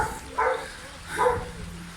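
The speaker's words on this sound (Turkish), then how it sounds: "Bak köpekleri kurtarıyor şimdi Uğurcan" Dogs bark while being rescued from flood water, two distinct barks about a second apart, moderately close over a quiet background.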